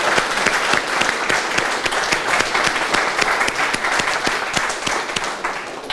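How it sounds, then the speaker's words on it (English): A group at an invention bootcamp showcase gives a student team a round of applause, dense steady clapping from many hands with a few sharper individual claps standing out, sustained at even volume throughout. "let's give another round of applause for TJT"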